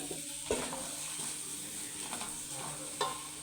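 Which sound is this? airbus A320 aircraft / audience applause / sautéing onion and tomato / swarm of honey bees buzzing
sautéing onion and tomato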